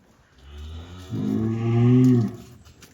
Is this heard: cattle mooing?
yes